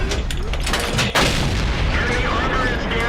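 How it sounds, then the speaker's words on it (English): Jagdpanzer IV tank destroyer cannon firing in a World War II tank video game, one sharp booming shot near the middle over a constant rumbling battle ambience. "I start working him over with this gun."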